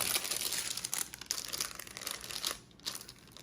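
Unboxing a stationery mystery kit, with close crinkling and rustling of paper and packaging, irregular bursts and a brief tearing sound, no talk.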